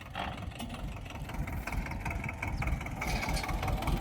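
A tractor engine idles nearby while watermelons are loaded, with a soft, uneven low chugging, fairly quiet and steady over a few seconds.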